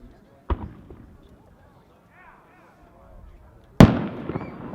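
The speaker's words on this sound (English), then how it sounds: "a 3-inch shell will rise roughly 300 feet before bursting" Aerial firework shells burst at a fireworks show, two sharp booms a few seconds apart, the second much louder with a crackling tail, with quiet crowd murmur between.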